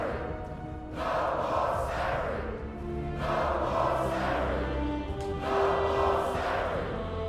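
A large crowd of marchers in Detroit: Become Human cheers and chants in rising and falling waves, loud and continuous, with rhythmic surges every couple of seconds.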